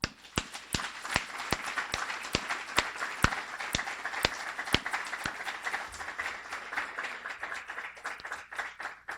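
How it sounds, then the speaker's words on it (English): Hands clapping in a graduation audience, a steady run of sharp, distinct claps at a fairly even rhythm, moderately close and clear with no talk over them. "I think they all deserve a round of applause"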